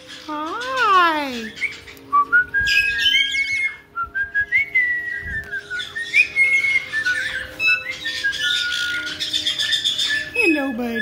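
A pet bird chirps and whistles in bright, rising and falling calls, some slurred and some clipped, repeating close by across the whole stretch, with a person's voice occasionally in the background.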